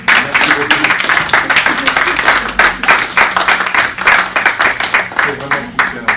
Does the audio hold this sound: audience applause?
yes